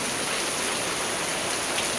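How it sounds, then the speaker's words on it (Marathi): Heavy monsoon rain pours down steadily in a Konkan village, a dense, loud and continuous hiss of drops on surfaces with no pauses and no voices. "मस्त हजेरी लावले पावसाने."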